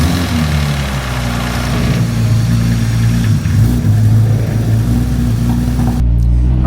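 A Porsche 911 Turbo S engine rumbles close by as the car pulls out, a steady deep drone with slight revving swells, alone and loud until it cuts off near the end.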